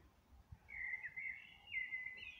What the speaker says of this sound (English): And the birds and that you can hear singing.